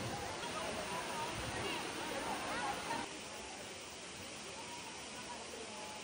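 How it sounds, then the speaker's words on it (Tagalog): Steady broadband rush of Daranac Falls, a waterfall in the Marilaque area of the Philippines, loud and continuous throughout, dropping slightly in level partway through. "Pangalawa ay itong Daranac Falls"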